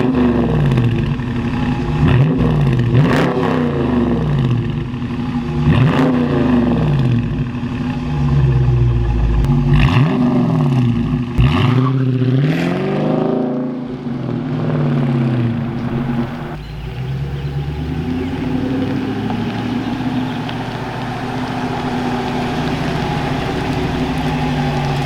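A Dodge Challenger T/A engine revs hard and close in a series of rising and falling throttle blips, then settles into a loud, steady rumble.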